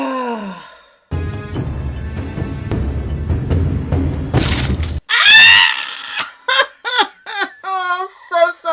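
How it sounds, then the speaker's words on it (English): A person watching a fantasy TV drama episode lets out sudden high-pitched screams and cries of shock after a stretch of dramatic music, loud and close, in several sharp bursts. "I didn't mean to scream like that."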